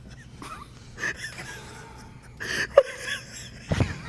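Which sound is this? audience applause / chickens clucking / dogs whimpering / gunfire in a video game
dogs whimpering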